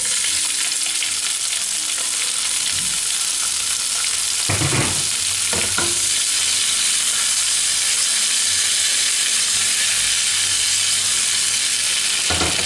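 Cherry tomatoes with chopped and whole basil leaves hit a pan of hot garlic oil over a lively medium-high flame, giving a steady loud sizzle and hiss with a few sharper crackles and stirring knocks, no voices.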